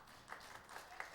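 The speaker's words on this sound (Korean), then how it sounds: "큰 박수 부탁드립니다" Faint scattered applause at a university medical college graduation held during a church service, a few soft bursts of clapping heard from a distance.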